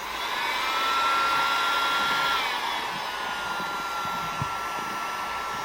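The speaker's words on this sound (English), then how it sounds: "hit it with some heat just to make sure everything's smooth" A heat gun blows hot air over carbon fiber vinyl wrap on a tumbler, a steady loud whooshing roar with a faint whine that holds for several seconds without talk.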